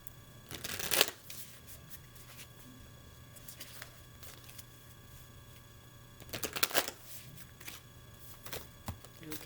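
Moon oracle cards shuffled in two quick bursts of riffling and flapping, close and crisp, separated by quieter handling rustles and light taps.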